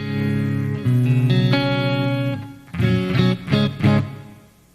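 Electric guitar played through distortion during a live show, with sustained chords and then several short, choppy stabs, each tailing into a brief pause. The tone is buzzy and close, with no talking over it.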